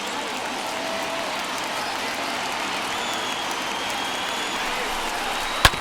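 Baseball stadium crowd of about 36,000 rising and cheering in the MLB The Show 21 video game, a dense, steady roar of applause and crowd noise, continuous throughout with a brief sharp crack at the end.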